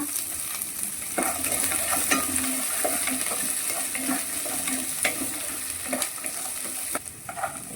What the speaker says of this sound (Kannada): ಸ್ವಲ್ಪ ಫ್ರೈ ಆಗಬೇಕು ಆನಿಯನ್